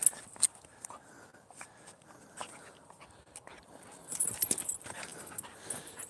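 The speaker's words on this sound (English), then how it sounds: "Stop the barking, Jack." A dog named Jack barking outdoors in short, scattered bursts, fairly faint and distant, mixed with rustling and footstep-like thuds, with a louder cluster of barks near the end.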